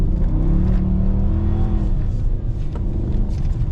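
A 2014 Dodge Charger R/T AWD revs hard during a burnout on snow, a loud, sustained engine roar with rising and falling revs, close up and alone.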